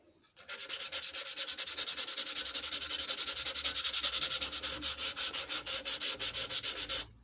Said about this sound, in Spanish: Y bueno, lija.